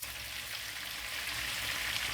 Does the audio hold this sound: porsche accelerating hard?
no